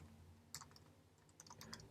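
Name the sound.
typing on a computer keyboard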